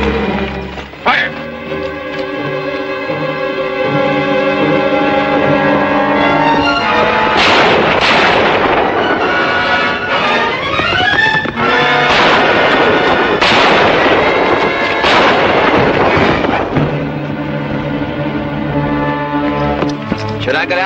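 A gunfire volley in a 1952 western film: loud, repeated blasts and booming reports come in dense bursts over a continuous roar of battle noise and music.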